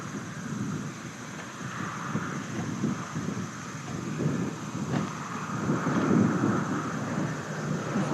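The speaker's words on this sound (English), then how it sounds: "You're probably hearing some of the wind" Steady gusting wind across open Nebraska fields rumbles and buffets the microphone throughout, a continuous low roar with no voices.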